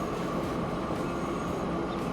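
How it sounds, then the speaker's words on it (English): Train running in Transport Fever 2, a steady rolling rumble of rail wagons with a faint tonal whine above it, continuous and fairly close, no voices. "What a lovely little train."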